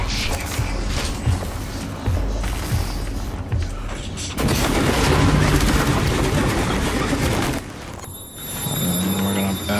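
A glue cannon fires in the video game Prey, heavy blasting bursts and mechanical creaks over loud, dense game noise, with a rising burst midway and a brief lull before high tones.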